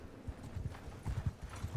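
Soft, rhythmic horse hoofbeats from the game Mount & Blade II: Bannerlord clip-clop steadily at a trotting pace, low and muffled, with no voices.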